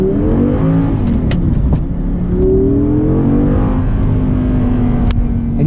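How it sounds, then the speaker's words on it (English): An Audi R8 V10 with a naturally aspirated engine and gated manual gearbox accelerates hard from inside the cabin, a loud sustained howl whose pitch climbs steadily and smoothly through the revs. "you really get that V10 howl"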